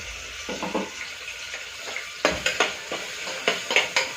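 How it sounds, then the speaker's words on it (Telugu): Tomatoes fry with well-browned onions in a pan for chicken haleem, a close sizzle broken by repeated scraping stirs and clatters in an uneven rhythm, with no speech. "బాగా వేయించిన తర్వాత టమాటో వేసుకుందాం"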